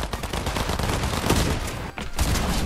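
Dense, loud gunfire from a video game shooter fills the whole stretch in a rapid, continuous volley, briefly dropping out for a moment near the end before the shots resume.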